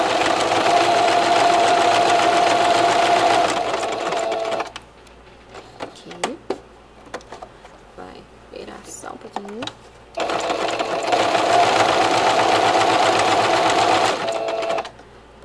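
Domestic sewing machine stitching a zigzag appliqué patch onto a cloth diaper: a steady, loud mechanical whir that runs in long stretches, stops for a pause with speech and small handling noises, then resumes.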